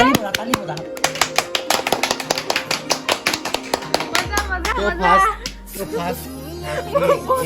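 Hands clapping rapidly and steadily to celebrate reaching 30K YouTube subscribers, a run of sharp, close claps lasting about four seconds before voices begin talking.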